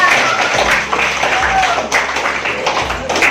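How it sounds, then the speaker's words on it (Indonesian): A group of students in a classroom claps for a classmate, a busy patter of hands that continues throughout with voices mixed in. "Tepuk tangan untuk Ridwan."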